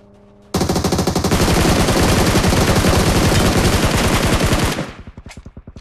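Sustained automatic gunfire in PUBG Mobile, a dense unbroken burst lasting several seconds, loud and close, then tapering into separate spaced shots.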